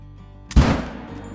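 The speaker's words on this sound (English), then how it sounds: "That shot looked good." A single loud rifle shot fired at a red deer in the hunting game Call of the Wild, a sharp close blast that rolls into a decaying echo over a quiet ambient bed.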